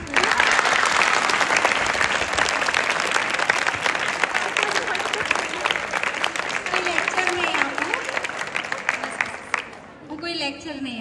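An audience at a Teachers' Day speech gives sustained, loud, dense applause with many hands clapping at once, then it fades out quickly near the end.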